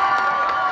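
Brief burst of crowd cheering and shouting for a contestant from the Campo Velho district at an outdoor singing competition in Praça da Cultura, Quixadá, steady and fairly loud throughout.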